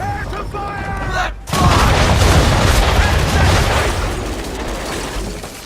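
Ship cannons firing in the video game Assassin's Creed III, a loud booming volley that rolls into sustained rumbling and crackling blasts after a brief voice.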